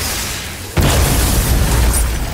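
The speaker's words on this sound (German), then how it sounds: "Er ist nicht komplett explodiert." A crystal explodes in God of War on PS4, a sudden loud boom that hits once and then lingers as a broad, rumbling wash for about a second and a half, with no talk over it.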